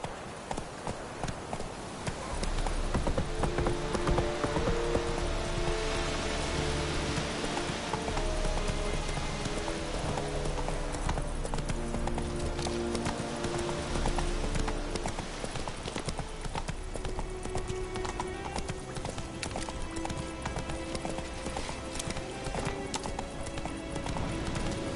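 Horse Roach's hooves clip-clopping steadily in The Witcher 3 video game, a rhythmic trot heard under continuous game music, with occasional shouted voices nearby.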